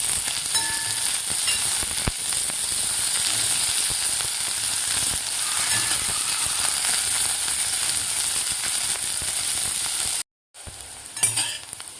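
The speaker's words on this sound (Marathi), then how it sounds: "तीन ते 4 मिनिट आपल्याला व्यवस्थित कारलं तेलामध्ये परतून घ्यायचं आहे." Bitter gourd sautéing in oil for a masala karela dish, giving a continuous bright sizzle with occasional stirring clatter for about ten seconds, then a sudden dropout and a brief, softer return of the frying.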